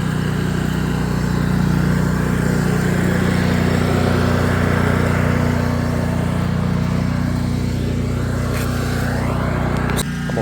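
A tractor engine runs steadily while mulching brush, a loud, constant low drone with a slight shift in tone near the end.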